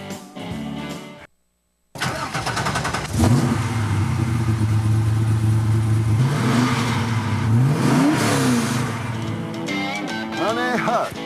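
A car engine accelerates and revs hard after a brief cut, its loud, rising tone climbing and falling over several seconds with no talking.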